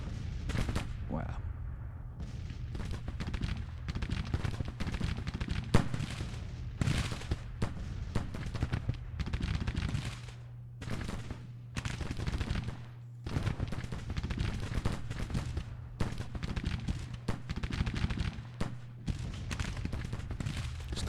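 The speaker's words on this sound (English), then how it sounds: "Clayton's brigade is involved in an open field firefight with the 2nd Brigade" Musket volleys crackle across a Civil War battlefield in Grand Tactician, dense and continuous ragged gunfire rolling through the whole stretch with brief lulls, mid-distance, under a steady low battle rumble.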